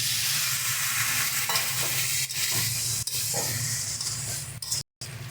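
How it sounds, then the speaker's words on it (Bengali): Soybean curry in a pan hisses and bubbles after a little water is poured in, a loud, steady sizzle with stirring clatter close by, briefly dropping out near the end. "এবার অল্প পরিমাণে জল দিয়ে দিচ্ছি"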